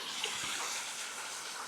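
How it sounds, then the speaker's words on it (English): A waterfall in a Scottish Highland gorge makes a steady, faint rushing hiss, heard from a distance as continuous outdoor water noise with no voices. "One of the many waterfalls that make this gorge absolutely special."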